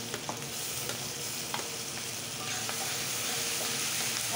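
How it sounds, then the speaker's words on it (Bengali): Onion pieces with garlic paste and ginger paste sizzle and crackle steadily in hot oil, close by and continuous, with occasional stirring scrapes and no voices. "আজকে একসঙ্গেই ভেজে নেব।"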